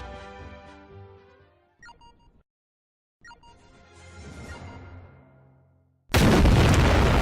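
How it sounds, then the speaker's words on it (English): Artillery fire and explosions ring out in a tank battle video game, with several booming blasts followed by decaying rumbles and brief gaps of near silence. A loud, dense burst closes the sequence. "a flak artillery truck just took a direct hit"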